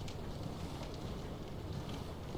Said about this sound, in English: Once it's windy here, the cloak is getting all twisted in the wind.